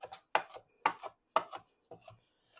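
A knife rough-chopping vegetables for salsa on a cutting board, giving about five sharp, close chopping strikes spaced unevenly, each followed by a short scrape, with no talking.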